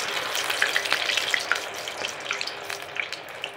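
Garelu, lentil vadas, frying in very hot oil, a steady bright sizzle with small crackling pops spread evenly throughout, close and fairly loud.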